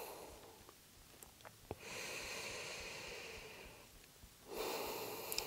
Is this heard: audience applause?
no